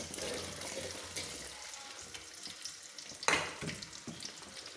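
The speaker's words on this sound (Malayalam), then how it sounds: "ആ എണ്ണയിൽ തന്നെ നമുക്കിനി ശർക്കര വരട്ടിക്കുള്ള കായ് കൂടെ വറക്കാം." Raw banana slices fry in hot oil, making a steady close sizzle and bubbling hiss with a few louder spits and stirring scrapes.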